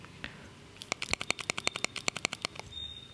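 A kazoo blown in and out rapidly to loosen its plastic membrane, giving a quick series of about a dozen short buzzy puffs, close and fairly quiet.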